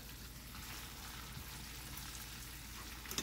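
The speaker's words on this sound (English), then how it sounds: "So we got our bacon and vinegar cooking here." Bacon and vinegar cook together in a metal pan for wilted lettuce, giving a faint, even, continuous sizzle with a couple of small pops near the end.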